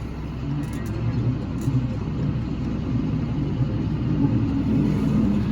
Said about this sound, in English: They don't exactly like my noisy tractor